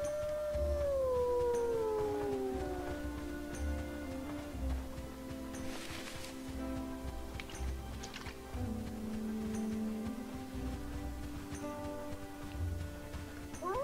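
Dog howling in a video game: a long, drawn-out howl sliding downward in pitch, heard over dense continuous game music and ambient noise, followed by further wavering tones within the busy soundtrack.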